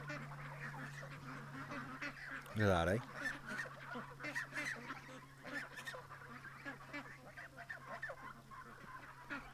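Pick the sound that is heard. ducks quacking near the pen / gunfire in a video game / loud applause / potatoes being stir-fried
ducks quacking near the pen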